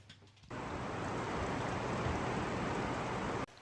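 Rain pattering on a safari tent at Ullswater Heights in the Lake District on an evening, a dense, even rush that starts abruptly, holds steady and close, then cuts off.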